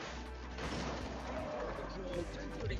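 Gunfire in a police video game, a series of sharp bursts and booms scattered across a few seconds amid game sounds, with someone talking over them.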